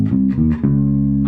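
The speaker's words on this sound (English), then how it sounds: "the next 4 notes are the root," Short bass guitar phrase of a few plucked notes moving through root, 3rd, 5th and 4th of the major scale, close and clear, with no one talking.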